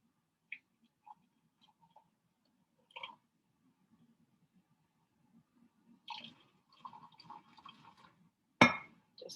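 Nespresso Virtuo coffee poured from a carafe into a glass: faint liquid trickles and a couple of soft glass clinks, ending in one sharp, close clink.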